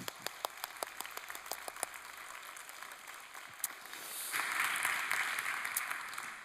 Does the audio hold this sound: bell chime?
no